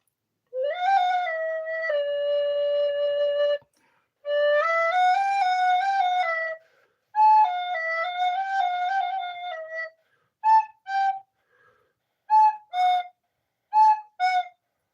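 Clear whistled tones imitate a cuckoo call: long, sliding held notes at first, then a series of short paired high-low notes, all alone in quiet surroundings.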